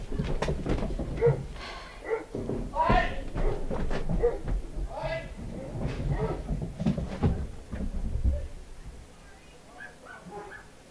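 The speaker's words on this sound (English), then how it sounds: "got a little distracted there when you hear your dog barking" A dog barks and yips outdoors near a house, in irregular bursts at moderate distance, over and between a person talking.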